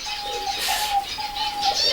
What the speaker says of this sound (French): Les oiseaux sont en cage